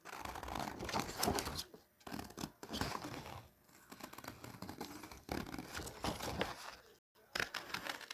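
Paper dinosaur party decorations being cut out with scissors, giving repeated crisp snips and papery rustling and tearing in uneven bursts, close up with brief pauses between cuts.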